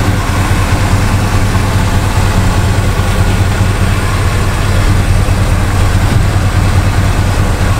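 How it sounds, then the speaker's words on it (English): A big old truck engine idles with a deep, steady rumble, loud and close, running continuously without any talking. "I love how these trucks sound"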